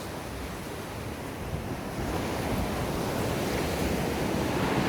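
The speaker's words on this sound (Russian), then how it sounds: "серф-волна, на которой вряд ли я бы стала нырять" Surf at Echo Beach in Bali rolls in as a steady, close, broadband roar of breaking waves, with wind buffeting the microphone and growing slightly louder partway through.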